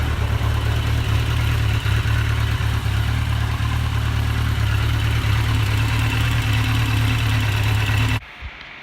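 A 1982 Kawasaki KZ1000 motorcycle engine runs steadily at a loud, close idle with a continuous low throb, then cuts off abruptly near the end.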